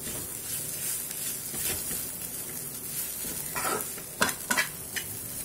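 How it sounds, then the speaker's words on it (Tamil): Cluster beans tossed with masala in a frying pan, stirred steadily: a continuous close sizzle with soft scraping, ending in a few sharper clinks of the spoon against the pan, no voices. "மசாலாவை இந்த கொத்தரங்காய் கூட நல்லா கலந்து விட்டுக்கலாம்"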